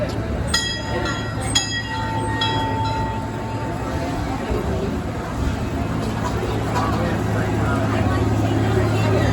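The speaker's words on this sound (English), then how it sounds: "you'll find the whistle stop, the train ride here at Six Flags Fiesta, Texas" Rumbling ride on the Fiesta Texas Railroad amusement park train at Six Flags Fiesta Texas, with a steady low mechanical drone, a couple of sharp metallic clanks early on, and voices talking over it.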